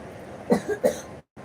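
A child gives a few short, sharp coughs in quick succession, close by, followed by a brief pause and one softer cough.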